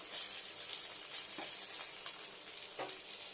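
Steady hot-oil sizzling of catla fish pieces frying, continuous and close, with occasional louder crackles and spatters.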